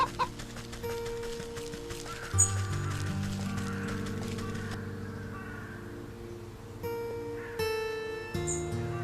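Chickens cluck in the fantasy crafting game Wytchwood, with steady soft game ambience and a few brief bright chimes, and no one talking.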